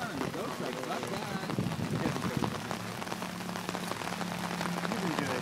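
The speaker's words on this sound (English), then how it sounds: "You're out in the rain." Pouring rain drums steadily on surfaces at an outdoor farm with emus and llamas, a dense continuous patter throughout, with a voice speaking faintly underneath.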